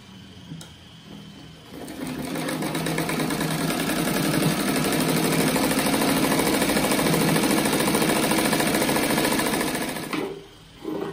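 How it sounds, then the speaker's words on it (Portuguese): A sewing machine stitches around the edge of a French-braid patchwork rug made from fabric scraps. It starts with a close, steady mechanical whir, holds an even rapid rhythm for about eight seconds, then stops, with no talking. "Agora eu vou passar uma costura toda a volta dele para depois recortar."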